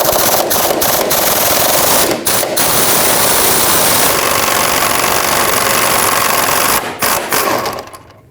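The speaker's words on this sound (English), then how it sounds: "I'm just going to put an 18mm socket with my air impact on these two right here." An air impact wrench fitted with an 18mm socket spins off receiver hitch bolts on a 2013-2020 Nissan Pathfinder, a loud, continuous rattling hammer that runs in long bursts with brief pauses, close up and alone.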